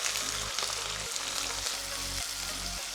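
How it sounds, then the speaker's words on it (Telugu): Mustard seeds, cumin, curry leaves and onion sizzling loudly in hot oil, a continuous close crackling fry with soft stirring scrapes repeating about every half second. "ఆయిల్ చక్కగా కాగింది. నేను జస్ట్ 1/2 టీ స్పూన్ ఆవాలు జీలకర్ర వేసేస్తున్నాను, కొద్దిగా కరివేపాకు అండ్ జస్ట్ ఒక్క మీడియం సైజ్ ఆనియన్."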